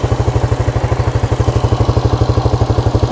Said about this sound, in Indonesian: Nah ini tadi kita gas nggak langsung RPM tinggi.